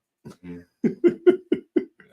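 A burst of several short, dry coughs in quick succession, fairly close and loud, with a brief vocal sound before them.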